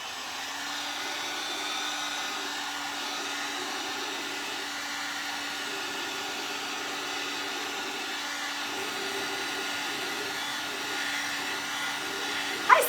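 A hair dryer blow-drying hair drones steadily for the whole stretch, a constant close whir with no talk over it.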